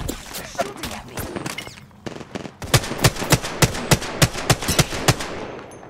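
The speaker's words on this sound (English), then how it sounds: "They're shooting at me." Rapid automatic gunfire in the Apex Legends battle royale game, sharp close bursts first mixed with other noise, then a regular run of loud evenly spaced shots while a player talks under it.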